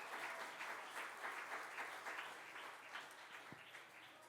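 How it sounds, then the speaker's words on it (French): A church congregation applauds singers at a revival service, a dense, steady wash of clapping sustained throughout at moderate distance, with no speech over it. "On peut les applaudir encore."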